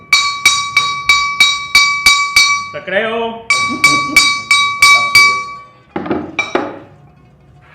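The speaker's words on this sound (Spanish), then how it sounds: "Y esto era la campana. La campana original." An original old school bell rings in a steady series of about eight bright, ringing strikes, pauses under a brief voice, then rings several more times before fading with talk.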